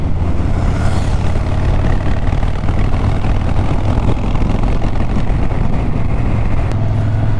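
A loud Triumph Thruxton café racer motorcycle engine rumbles close by, a dense continuous growl that holds steady throughout.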